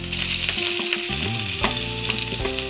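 Green chilli, ginger and onion hit hot oil with browned cumin for veg roll filling, a loud continuous sizzle up close with spatula scrapes and a humming tone running underneath.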